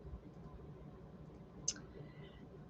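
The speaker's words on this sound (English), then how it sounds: "I keep clicking it and it's slow." A single quiet computer mouse click sounds against a soft room hum, with nothing else happening around it.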